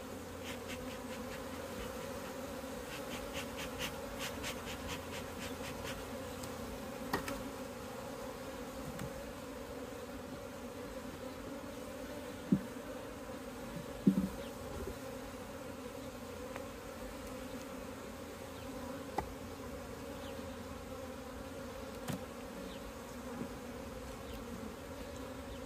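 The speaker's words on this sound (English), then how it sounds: "Looks like a lot of those bees have hatched out." Steady, dense buzzing of many honey bees at an open hive, continuous throughout at moderate loudness, with a few faint knocks and clicks.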